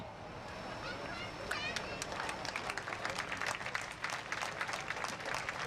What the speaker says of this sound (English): I ask all veterans, active duty, military, and frontline workers to stand for an applause.